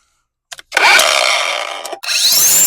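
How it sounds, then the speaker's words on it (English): A grinder sharpens a Honda HRN216 lawn mower blade: after a couple of short taps, a loud grinding swipe of about a second and a quarter, a brief break, then another harsh pass against the steel edge. "I'm going to make one swipe on the other side with the grinder"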